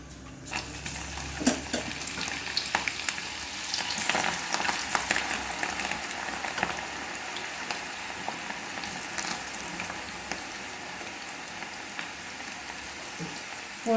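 Onion pakoda batter frying in hot oil, a dense crackling sizzle with scattered sharp pops, fairly loud and steady throughout without any speech.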